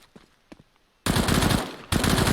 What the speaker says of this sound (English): She takes out Queen with an AK